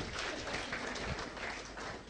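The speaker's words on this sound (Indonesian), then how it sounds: "Beri tepuk tangan." An audience applauding at an Indonesian success-story seminar, a dense, even wash of clapping that lasts about two seconds with no voices over it.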